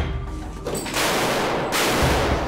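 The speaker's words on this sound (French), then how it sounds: "Ici, les commandos tirent à balles réelles." Commandos fire live rounds inside an urban combat training complex of mock streets and houses. A couple of loud, sharp bursts of gunfire crack out close by and ring off the surroundings.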